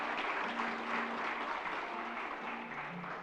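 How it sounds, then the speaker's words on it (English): An audience at a cybersecurity symposium in Uruguay applauds as speakers come on stage, producing a steady, moderately distant clapping that lasts a few seconds, with a faint voice underneath. "Give them a round of applause as they come"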